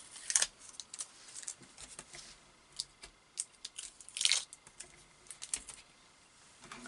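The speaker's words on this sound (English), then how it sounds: "I'm just going to take off the tape because the die is holding in place now" Tape peeled off a metal cutting die in crafting work, a series of soft crackling rips and short tearing bursts spaced irregularly, quiet and close with no talking.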